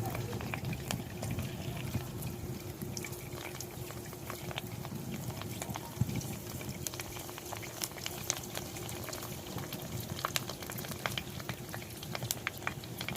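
Fuchka (panipuri) shells fry in hot oil over a high flame, giving a steady, dense bubbling and crackling sizzle that runs on without a break at a soft, close level.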